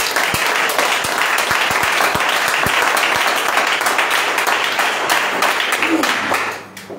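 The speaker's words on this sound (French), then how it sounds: "Applaudissez pour Seigneur" Congregation applauding during a church worship service: dense, steady clapping from many hands filling the room, with a few sharper low thumps early on, then fading out near the end.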